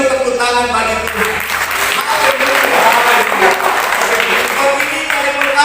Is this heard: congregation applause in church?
yes